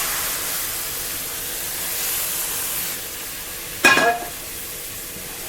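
Cooked milk is stirred into besan in a hot pan, giving a soft steady hiss with a brief louder sizzling burst near the end; a voice speaks a single word.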